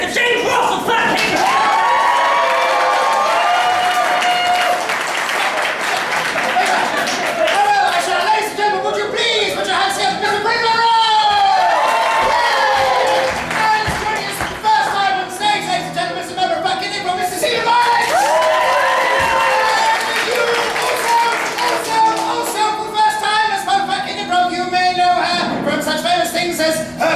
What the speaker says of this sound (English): another rapturous round of applause to Mr. James Russell Flatkin